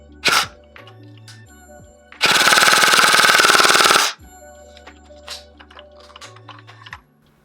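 A G&G ARP 9 2.0 airsoft gun shooting .20 g BBs, one loud sustained full-auto burst of about two seconds with sharp close single shots before and after, over faint mechanical clicks.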